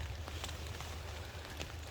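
Rain falls steadily on a wet mountainside hammock camp, a soft continuous patter with scattered brighter drops over a low rumble, no voices.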